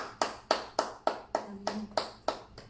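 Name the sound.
congregation clapping to acclaim the Lord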